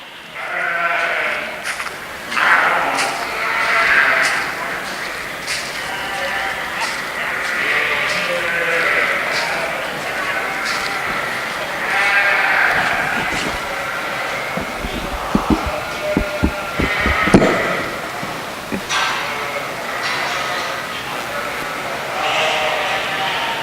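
Sheep and ewe lambs at a sheep show bleat over and over, some near and some farther off, above a steady crowd murmur, with a few sharp knocks partway through.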